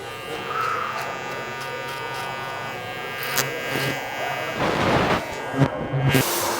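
An electric trimmer buzzes steadily up close while lining up a beard in a barbershop, a continuous whine with small shifts in pitch and a few brief bumps as it moves along the edge.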